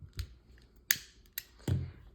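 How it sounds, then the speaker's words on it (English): Scissors snip through knitting yarn in a few sharp, close cuts spread over two seconds, with soft handling rustles between them in a quiet room. "Now cut the yarn."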